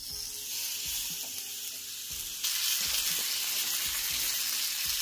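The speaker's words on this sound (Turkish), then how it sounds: "Bu köfteyi kızartmak gerçekten zor." Steady frying sizzle of meatballs in oil, with soft scraping and clinks of a utensil; the sizzle grows louder and brighter about halfway through.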